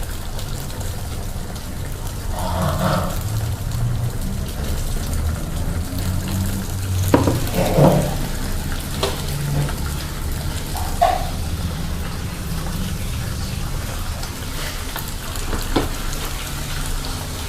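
Onion, ham and mashed potato fry in an egg pan, giving a steady soft sizzle with scattered light crackles and pops, close by and with no talking.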